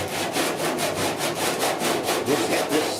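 Rhythmic back-and-forth scraping of a sanding block over soft, not fully hardened body filler on a 1966 Ford F100 dash, steady strokes about four per second, close and alone.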